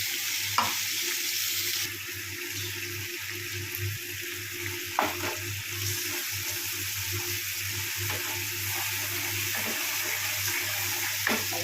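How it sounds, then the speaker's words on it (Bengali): Black cumin (nigella) seeds sizzle steadily in hot oil as a tempering, a continuous crackling fry with a few sharp clinks and stirring scrapes, fairly close. "একদম কালো জিরের ফোড়ন"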